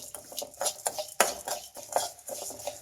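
A spoon scrapes and clinks against a pan while stirring coriander seeds frying for sambar powder, quick irregular strokes close up with a faint dry rustle beneath.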